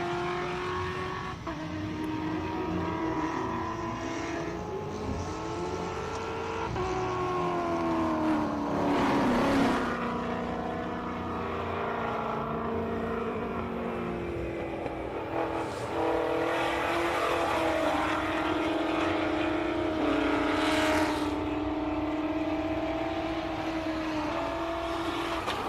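Race cars climb a hillclimb course at the SIMOLA HillClimb in a continuous engine drone, with revs repeatedly rising and falling through gear changes and passes, under a steady background roar.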